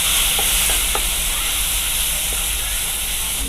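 Spices frying in a pan with a little water and salt for aloo paratha filling, giving a loud, continuous steamy sizzle and hiss with a few faint stirring clicks.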